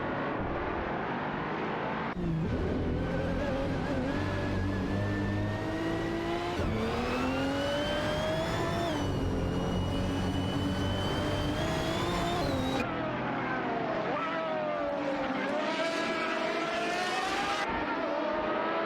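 Race car engines in a racing video game whine and rise in pitch as they overtake, a steady loud roar with shifting tones and sudden changes in the engine note.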